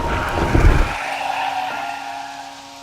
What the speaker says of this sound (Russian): внезапно были разбужены звуком движущегося автомобиля